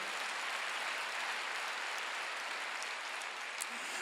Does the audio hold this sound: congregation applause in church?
yes